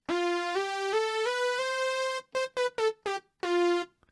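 A singular lead patch on the Reason Polytone dual layer synth plays a bright, harmonically rich lead line: sustained held notes that step upward, then a run of short staccato stabs and a final held tone, alone with no talk.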